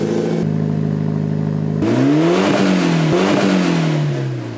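A modified Mitsubishi Evo 7 car exhaust idles steadily, then is revved hard several times, the engine note rising and falling loudly up close.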